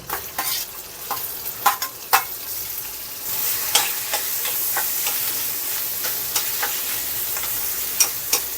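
Potatoes tossed into a pan of sizzling cumin, chili paste, salt and turmeric, with steady frying hiss and repeated sharp stirring scrapes and clicks of a spoon against the pan, close and alone.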